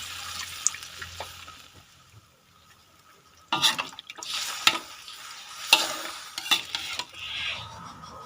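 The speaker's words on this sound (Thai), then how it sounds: "เดี๋ยวใส่น้ำลงไปนะครับ" Water splashes and pours into a pot of frog curry in a few bursts after a quiet stretch, with clinking of metal and faint stirring.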